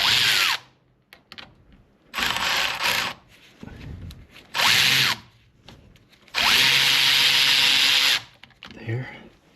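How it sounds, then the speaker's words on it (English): Power tool backing out a bottom bolt on the brake dust shield of a 2013 BMW X3, four loud whirring bursts of varying length separated by quiet gaps, with some talk in between. "I'm just going to back out this bottom bolt so it's clear"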